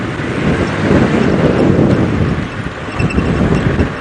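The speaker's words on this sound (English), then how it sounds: "It's quite windy today" Strong wind buffets the microphone on an early-morning safari drive, a loud, steady rumbling roar with gusty swells and no talking.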